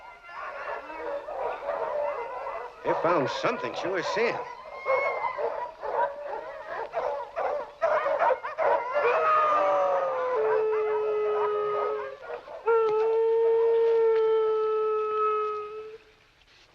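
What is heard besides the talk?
dogs howling and barking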